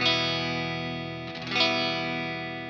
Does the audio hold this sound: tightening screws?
no